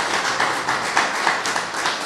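An audience applauding at an exhibition of four Turkish artists in Kavadarci in 2018: moderate, even clapping from a crowd with a quick, regular beat, heard on its own.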